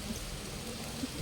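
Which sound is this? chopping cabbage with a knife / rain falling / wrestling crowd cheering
rain falling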